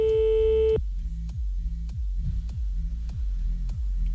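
A telephone line gives a steady tone for under a second as a number is dialed, then a run of regular low pulsing beeps, about two per second. The sound is clear and close, with no one speaking.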